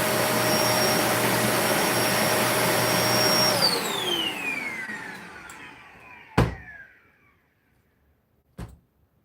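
Hoover Spin Scrub carpet cleaner running loud and close, a strong motor whine that winds down and fades out, followed by two sharp knocks or clunks.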